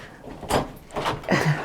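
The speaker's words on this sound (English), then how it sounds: "open the door and off we all go" A garden or patio door being opened at a house, a couple of short knocks and clunks of the latch and frame close by, with no speech.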